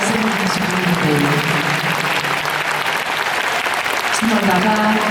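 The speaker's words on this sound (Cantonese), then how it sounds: "呢個掌聲係屬於你哋，" A large concert audience at a thank-you show in Hong Kong's Kai Tak Main Stadium applauds loudly and steadily, a dense, sustained wash of clapping with a voice carrying over it.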